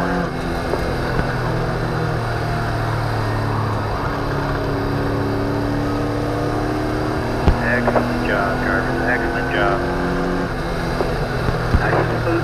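A racing boat engine runs at full throttle, with a loud, steady droning hum that holds throughout, while a radio voice talks intermittently over it.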